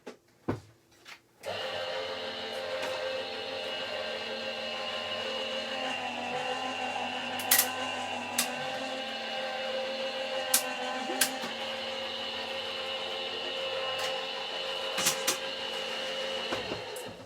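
A die-cutting machine running steadily as a card passes through during card making, a sustained mechanical whirring hum with a few faint clicks and knocks scattered throughout, moderately quiet and constant after a brief start.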